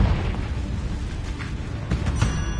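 Confringo fire spell exploding in the Hogwarts Legacy video game inside the Acromantula cave, a dull booming blast with a rumbling burst rising near the end, heard alone without talk.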